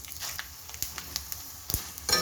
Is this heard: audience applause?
no